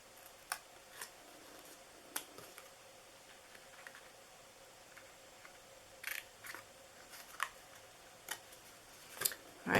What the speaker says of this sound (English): then I'm just going to flip it around and we are going to just trim these right here